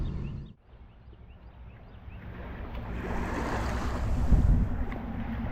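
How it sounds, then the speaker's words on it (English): Strong wind sweeps over the Mississippi River, a steady broadband rush with water and wave wash beneath it, building gradually and peaking in gusts toward the end with no talk. "that wind, you can feel it coming in now"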